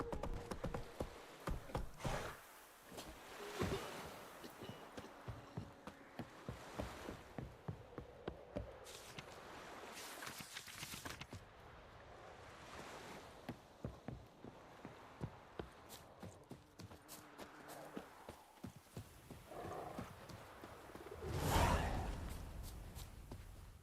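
Roach the horse in The Witcher 3 walks along with a steady clip-clop of hooves, soft and regular, sometimes broken by breaths and small sighs, with no talking.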